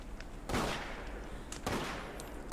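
Gunfire in the video game Deceit: two loud bursts of shots about a second apart, each with a ringing tail, over a low background hum with no talk.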